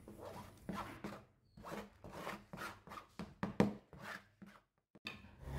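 Sliced palm sugar being crushed finer by hand for a kinca syrup: a series of short, close scraping and rubbing strokes in an irregular rhythm, with brief pauses.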